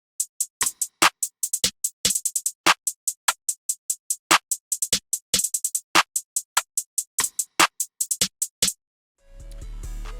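A percussion sample called Perk Air in an FL Studio beat plays as a quick, evenly spaced run of crisp clicky hits, dry and close, followed by a short low electronic swell at the end.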